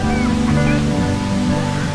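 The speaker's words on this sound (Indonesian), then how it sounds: "Inilah dia Curug Citambur, air terjun setinggi lebih dari 130 meter yang berdiri megah di tengah alam Cianjur Selatan" Curug Citambur waterfall in South Cianjur, over 130 metres high, roars as a steady dense rush of falling water, with voices and a droning tone mixed over it.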